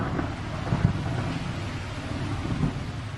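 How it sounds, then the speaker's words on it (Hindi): A thunderstorm with heavy rain, made of a constant dense rain hiss and low rumbling with a couple of soft thunder swells, loud and steady with no voices. "श्री कृष्ण के जन्म के समय भीषण बारिश हो रही थी।"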